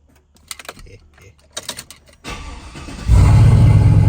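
A car fitted with an On3 76/65 ball-bearing turbo and an exhaust cutout: scattered clicks give way to a rising engine rumble, then the cutout opens into a loud, close, continuous raw exhaust roar.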